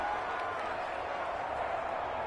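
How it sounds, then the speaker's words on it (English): A stadium crowd in the video game Madden 21, Giants at Bears, groans and murmurs as a steady distant wash of noise after a roughing the passer penalty, while a commentator talks over it. "this crowd does not like that call"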